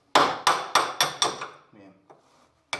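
Four sharp, evenly spaced hammer taps strike a car's front suspension control arm bushing up close, each ringing briefly, followed by a few fainter knocks and scrapes.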